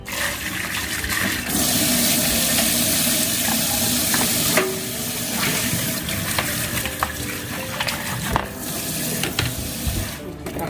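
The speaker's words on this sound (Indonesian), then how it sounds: "saya cuci pakai tepung terigu" Herbal ingredients being washed by hand in water with wheat flour, a steady wet swishing and sloshing with splashes running throughout, close and fairly loud.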